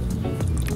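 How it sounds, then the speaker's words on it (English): Rice water is stirred into a thick hair mask, making short wet squishing and dripping sounds. The sounds are close and brief, with no speech. "right now I'm mixing in the rice water into it very well"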